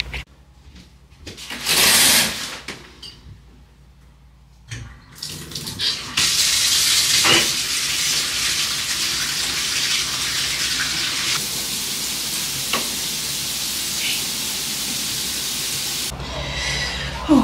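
Shower water running in a bathroom, a steady loud hiss of spray that starts after brief bursts and continues until it stops near the end.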